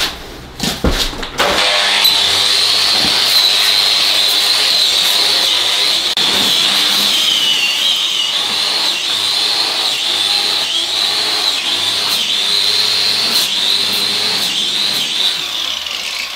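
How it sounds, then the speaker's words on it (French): After a brief start-up, an angle grinder disc runs continuously with a loud, high whine to clean up the frame during a window replacement in a small studio renovation, its pitch wavering slightly as it bears on the material. "Histoire de nettoyer un petit peu, je vais mettre un petit coup de disque comme ceci"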